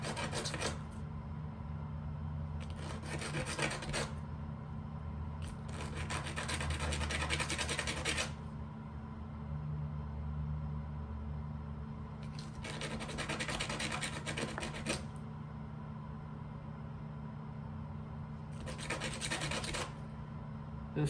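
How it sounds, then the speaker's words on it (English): A hand file rasps rough edges off an aircraft bulkhead part in a Rans S-21 build, coming in several separate bursts of bright scraping strokes over a low steady background hum. "Get all these rough edges off."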